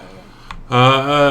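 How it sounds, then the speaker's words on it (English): A cat lets out a loud, drawn-out meow, close by, after a short quiet moment with a faint click. "you can hear his complaints. Him meowing."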